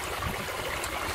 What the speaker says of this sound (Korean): 물소리는 참 언제 들어도